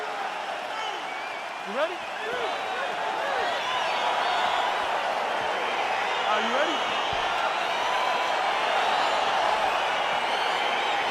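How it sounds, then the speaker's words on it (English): A loud arena crowd in the video game EA Sports UFC 4, set at the Bell Centre in Montreal, roars steadily throughout, with an announcer's voice calling out over the sustained cheering. "This is as loud and as knowledgeable a crowd as we'll experience really all year"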